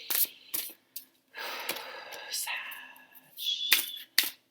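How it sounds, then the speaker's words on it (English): Tarot cards being shuffled by hand in a series of close, papery riffling and flicking bursts with brief gaps, plus a few sharper snaps. "I'm having trouble shuffling."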